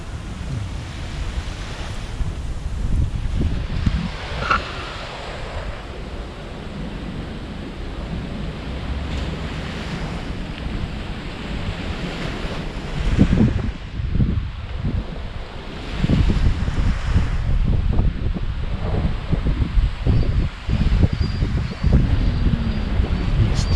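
Continuous roar of Baltic Sea waves and surf at Brzeźno, Gdańsk, swelling and breaking in long surges, with wind buffeting the microphone throughout.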